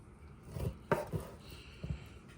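Raw cross-cut rib bone being cut for dog food, a few close dull chopping thuds spaced unevenly over a quiet background.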